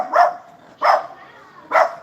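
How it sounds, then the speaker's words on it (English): A dog barks three times at a steady spacing, loud and close, with a faint tonal hum lingering underneath between the barks. "All it does is bark."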